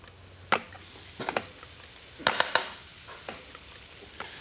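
A sauce base mix sizzles and crackles in hot olive oil in a pan on full heat, with a few sharp bursts and spatters over a quiet background.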